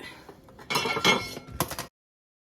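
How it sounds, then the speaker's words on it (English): A lid set onto a slow cooker with a clinking clatter of metal and glass, two close bursts over about a second, then abrupt silence. "And we're going to add our lid."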